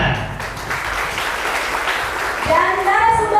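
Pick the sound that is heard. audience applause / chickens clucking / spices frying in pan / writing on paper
audience applause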